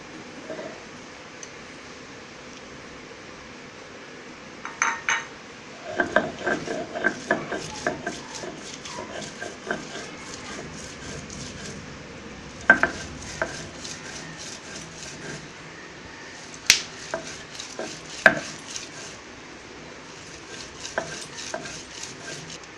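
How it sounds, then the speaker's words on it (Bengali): Chilies being ground by hand on a stone slab (pata) for a bhorta, with repeated rhythmic scraping and clacking strokes, close up and moderately loud, pausing and resuming in bursts with no talking. "এখন পাটায় বেটে নিচ্ছে আমার বড় আপু"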